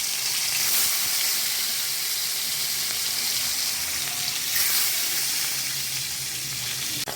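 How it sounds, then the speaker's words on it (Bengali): Catla fish coated in salt and turmeric fries in hot oil, giving a loud, continuous crackling sizzle that holds steady throughout with no voices. "এরপর আমি তেল গরম হয়ে গেছে,"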